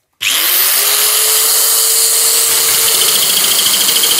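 A sheet metal nibbler cutting 3 mm aluminium starts abruptly and holds a loud, steady high-pitched mechanical whine with a buzzing chatter, close and continuous to the end.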